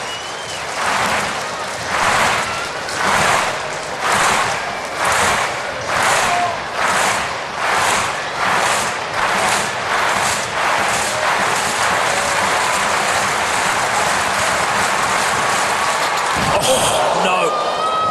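A large crowd at Bislett stadium in Oslo claps in a loud rhythmic unison at a Diamond League athletics meet, the beats gradually quickening and blurring into continuous applause and cheering, with a commentator's voice over it.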